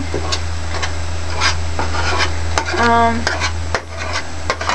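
Egg fried rice stir-fried in a pan on a gas stove, close scraping and rubbing of a utensil against the pan with a soft sizzle underneath and brief voice-like tones near the end.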